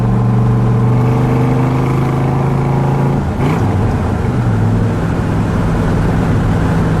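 A fuel-injected 1965 Chevrolet Corvette Stingray with a four-speed drives past, its engine note climbing in pitch through the gears, then dropping sharply mid-clip as it shifts, loud, close and continuous with no voices.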